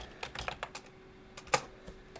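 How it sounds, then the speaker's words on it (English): Keystrokes on a computer keyboard entering a brand name into a search field, a scattered run of quick close taps with one sharper clack near the middle, heard alone without talk. "You would just type that in and search for that."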